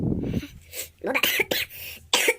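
A person coughs and clears their throat after drawing on an electronic cigarette, a few short harsh bursts close by.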